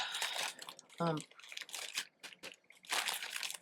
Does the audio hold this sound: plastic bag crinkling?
yes